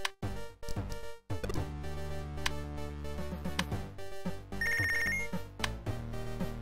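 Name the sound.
telephone ringing in Punch Club video game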